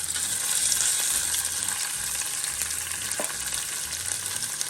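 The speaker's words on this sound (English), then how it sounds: "you're just gonna let this burn a little bit in the oil" Garlic cloves fry in hot oil for a Jamaican curry goat, a steady crackling sizzle close by with a light spoon or pan knock partway through, no talking.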